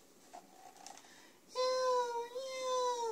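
Small kittens give a couple of faint, distant mews, then a louder, drawn-out high meow rises close by and holds for over a second.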